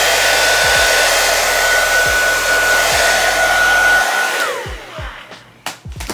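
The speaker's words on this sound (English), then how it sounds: "I'm gonna have to tie it down, blow dry it." A hair dryer blowing on a lace front wig, a loud steady whine that winds down and shuts off near the end, followed by a few soft knocks.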